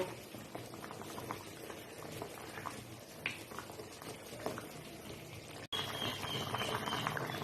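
Koi fish curry with cauliflower and potato simmering in a pan, a steady bubbling and sizzling that runs throughout at moderate level, with a brief cut near the end before the bubbling resumes.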